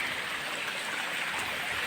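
Rain falls outdoors on a hot day near water, making a dense, steady hiss that is loud and continuous, with no talk over it.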